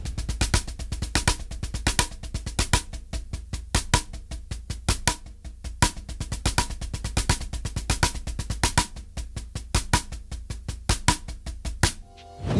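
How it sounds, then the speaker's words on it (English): Six stroke roll played on a drum kit, a fast dense stream of crisp strokes with accents, moving from 16th note triplets into straight 16th notes, loud and close with no talking. "If we were to do that with the six stroke roll"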